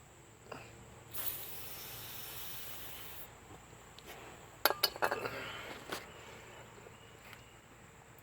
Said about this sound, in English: I'm going to use some silicone spray lubricant.